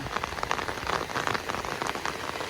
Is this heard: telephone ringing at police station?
no